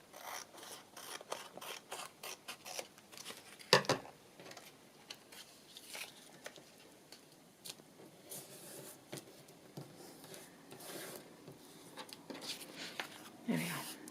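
Scissors snip through paper while a book page tag is trimmed, giving close, irregular crisp cuts and rustles with a few sharper clacks of the blades.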